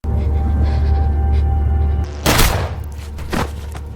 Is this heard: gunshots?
yes